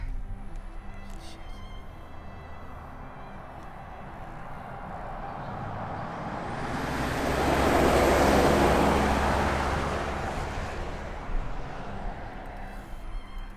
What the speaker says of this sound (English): A car.